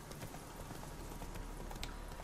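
Horse hooves clip-clop in a steady, quick rhythm across the ground in The Witcher 3, moderately close and even, with a faint wash of background ambience.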